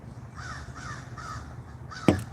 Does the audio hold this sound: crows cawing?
yes